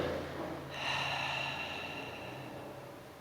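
Slow, audible breaths in and out during a Pilates exercise, close and fairly soft, with a breathy exhale rising partway through and fading toward the end.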